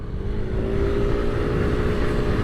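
Engine drone of a Piaggio MP3 300 HPE Sport three-wheel scooter climbing a hill, a steady, moderately loud hum with a slowly rising tone and wind rush, continuous and without talk.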